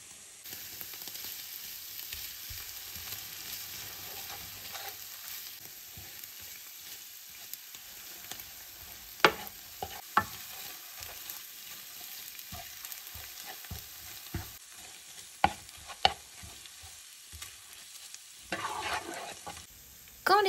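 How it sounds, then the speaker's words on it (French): Half an onion chars until black in a hot pan, with a soft steady sizzle and occasional sharp scraping or stirring knocks throughout, heard close and alone. "je vais griller la moitié d'un oignon. Quand je dis griller, je veux vraiment qu'il soit noir"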